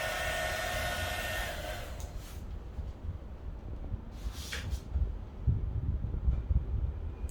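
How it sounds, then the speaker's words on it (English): Dental air blower hissing a strong, steady stream of air up close, cutting off after about two seconds, followed by a short puff and quieter low rumbling handling noise. "This blower is very effective."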